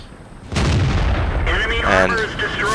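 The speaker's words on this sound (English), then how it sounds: "That's the joys of using the DCA 45 gun on the ARL 44." A DCA 45 gun on an ARL 44 tank fires in World of Tanks, one loud close boom that hits hard and rumbles on, with game effects and what may be a voice continuing underneath.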